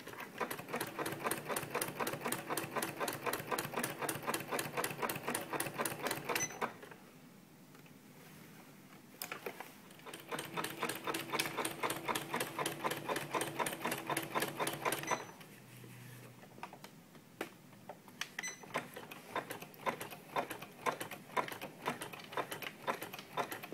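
A sewing machine stitches along the edge of a blanket in steady rapid runs of needle clatter, stopping for a few seconds between stretches, then resuming with more uneven, slower stitching.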